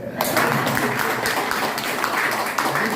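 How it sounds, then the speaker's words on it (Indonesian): A crowd at a gathering applauds, giving a steady, dense wash of clapping for a few seconds, moderately loud and close, with a faint murmur of voices underneath. "Tepuk tangan dulu Pak"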